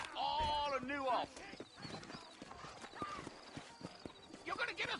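Horse hooves clip-clop in a Western video game set in New Ulster, with a short neigh near the start, moderately loud over character dialogue.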